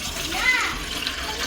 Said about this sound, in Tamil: அதில் ஒரு பாத்திரத்தை வச்சு அதில் தேவையான அளவு தண்ணி ஊற்றிக்கலாம்.